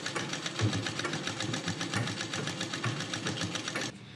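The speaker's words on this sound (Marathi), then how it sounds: "हे जे साडीचे दोन्ही एंड आहे हे आपण आतल्या बाजूला फोल्ड करून स्टिच करून घेऊयात" A sewing machine stitches the folded edges of a Kalash saree with a rapid, steady mechanical whirring and ticking, close up, before stopping abruptly near the end.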